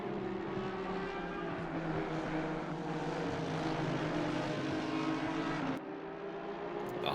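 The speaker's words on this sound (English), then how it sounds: "Listen to the dulcet sounds of the Honda NSX Evo." Honda NSX Evo race car in a racing video game at Zandvoort, a steady droning engine roar held at high revs, with a brief dip near the end, and no voices.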